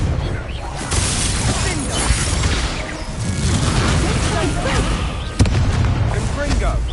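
Fiery Confringo spell blasts in a Hogwarts Legacy duel, a string of booming, crashing impacts with a sharp loud hit near the end, set against busy game ambience and a voice.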